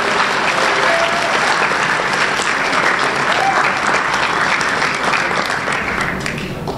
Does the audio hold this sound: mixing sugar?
no